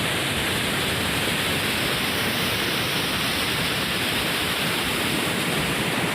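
Loud, steady roar of rushing floodwater at a bridge, a dense continuous wash of noise that fills the whole stretch without pause, close and overwhelming.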